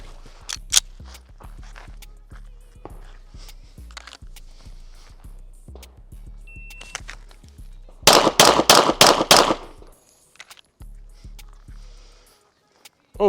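Handgun shots at a 15-yard pistol target during a timed practical shooting drill come as five rapid, loud, sharp cracks in a tight burst. A shot-timer beep, quieter scattered sounds and brief talk surround the shots.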